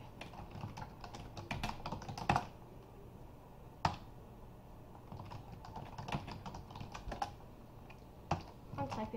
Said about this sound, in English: Typing way too fast